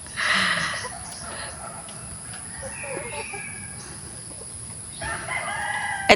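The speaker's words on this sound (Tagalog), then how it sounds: "Pula. Manok na pula." A rooster crows loudly at the start and again near the end, with faint clucking and outdoor background noise in between.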